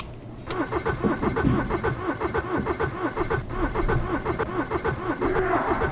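A junkyard truck engine cranks and catches, then settles into a loud, close, rhythmic chugging idle with steady pulsing throbs throughout.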